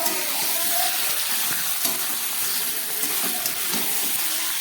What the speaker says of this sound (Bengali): একটু চিকেনটাকে ভেজে নিচ্ছি পেঁয়াজের সঙ্গে